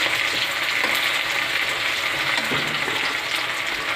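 Chopped onions sizzle loudly in a hot pan for mutton kosha, a dense, steady crackling frying hiss with occasional scraping stirs, close and uninterrupted throughout.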